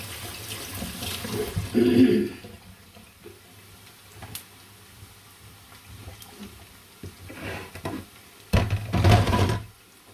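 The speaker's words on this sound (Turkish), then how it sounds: "Elimi yıkayayım." Running tap water splashes in short bursts as hands are washed at a kitchen sink, with quiet knocks and clatter in between.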